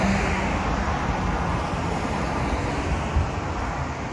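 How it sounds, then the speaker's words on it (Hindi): A car speeding along a road in Dubai, its steady broadband roadway roar and wind rush loud and continuous with no pauses. "बहुत स्पीड चलती है ये गाड़ी।"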